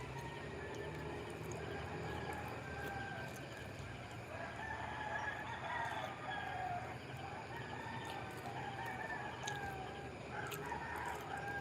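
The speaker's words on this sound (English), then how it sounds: "You know, I love to kill that rooster." A rooster crows faintly in the distance over a steady background hum, its drawn-out calls rising a few times amid other clucking fowl.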